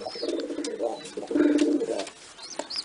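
Young racing pigeons coo in soft, repeated low throbbing phrases, close by, with a few faint chirps and light rustling between them and no talking.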